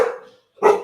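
A dog barks twice indoors, close and loud, with a short gap between the two sharp barks and no other sound.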